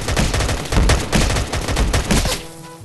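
Rapid, loud bursts of gunfire in a Minecraft game crackle close by in quick succession, then thin out to a faint tail near the end.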